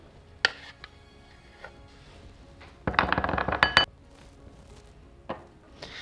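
Macadamia nut butter being scraped from a Thermomix bowl into a clean bowl, with sharp metal clinks and a dense burst of scraping and clattering in the middle, close and with no talk.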